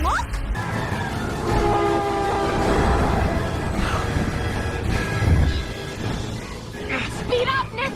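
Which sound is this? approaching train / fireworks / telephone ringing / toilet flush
approaching train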